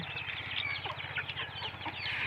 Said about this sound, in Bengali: মুরগি আরও আছে ওইদিকে, ওই যে খাইতে আছে।